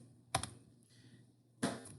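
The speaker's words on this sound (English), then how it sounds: "you're going to type in your student's name" Two short bursts of typing on a computer keyboard, a few quick clicks each, separated by a pause; close and quiet, with no voices.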